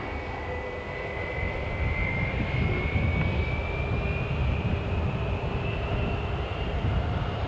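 Airbus airliner jet engines produce a steady loud rumble with a rising whine drifting slowly upward in pitch, continuous throughout.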